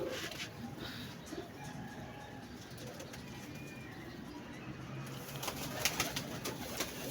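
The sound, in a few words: pigeons cooing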